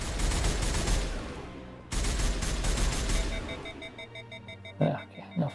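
Sustained gunfire rattles loudly during a squad firefight in the game Mass Effect 1 Legendary Edition, with dense bursts, a brief gap, then electronic tones and sharp impacts toward the end.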